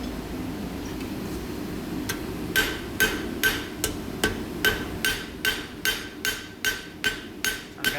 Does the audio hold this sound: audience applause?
no